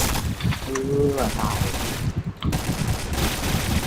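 Rapid bursts of gunfire from a video game match fill the clip, loud and continuous with a brief gap partway through, mixed with game noise and talk over the top.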